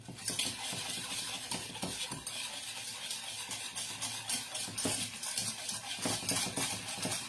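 A spoon scrapes and stirs a caramel candy mixture in a pan, quiet repeated scraping strokes with a soft bubbling sizzle underneath.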